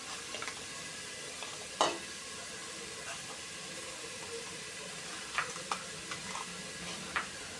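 Ginger garlic paste sautéing in a pan for vegetable biryani makes a soft, low sizzle, punctuated by scattered light taps and scrapes of a stirring spoon.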